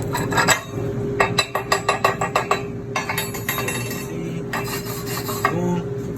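Wire brush scrubbing slag off a fresh 7018 stick (SMAW) weld, a quick series of rhythmic scraping, clinking strokes on metal, loud and close, with a steady hum underneath.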